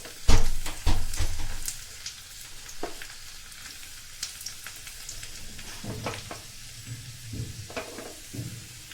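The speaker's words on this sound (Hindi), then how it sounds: "पालक में तड़का लगा देंगे।" Garlic for a tadka sizzles loudly in hot oil for a Sindhi spinach curry, with a few sharp clanks of stirring at the start and a continuous crackling fry throughout.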